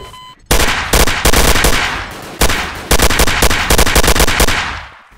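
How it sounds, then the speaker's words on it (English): Rapid bursts of automatic gunfire in the multiplayer game Garry's Mod DarkRP, several loud close volleys with short gaps between them and no talking. "what the hell are you shooting at?"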